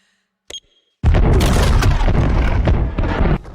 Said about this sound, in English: Emma detonates the explosives and the eco-terrorists make good their escape.